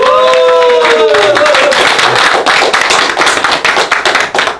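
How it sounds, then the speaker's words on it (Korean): Audience clapping in thanks for a lecturer at a lure-fishing school session, dense applause with a few shouted voices near the start, steady and loud before thinning out toward the end. "감사 박수."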